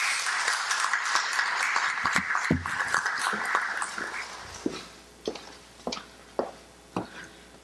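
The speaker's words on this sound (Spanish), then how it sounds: "Lo recibimos con fuertes palmas." Applause at an urban mobility plan presentation: a brief burst of audience clapping that quickly thins to a few scattered, separate claps near the microphone.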